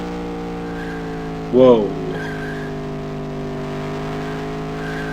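Race car engine from the video game NASCAR Racing 2 drones steadily throughout, with a brief burst of tire or skid noise early on and a short exclamation from a voice.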